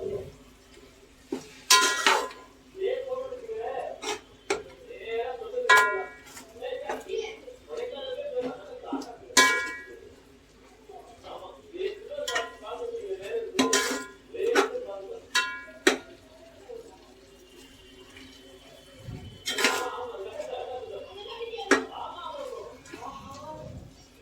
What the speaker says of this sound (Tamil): நல்லா பெரட்டி விட்டு நீங்கள் வந்து நல்லா ஃப்ரை பண்ணுங்கள்